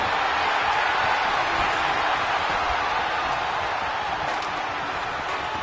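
Loud, steady roar of an arena crowd in the wrestling video game WWE 2K26, a dense continuous wash of cheering with scattered whoops throughout.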